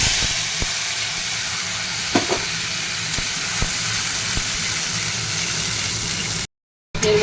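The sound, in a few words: ground spice paste sizzling in hot oil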